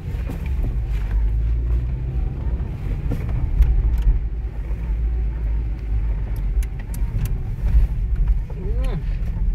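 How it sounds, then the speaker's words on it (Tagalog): Cars move through snowy road traffic in the UK, a low continuous engine and road rumble with wind buffeting the microphone, while people talk over it. "Ganyan ka-traffic pag snow."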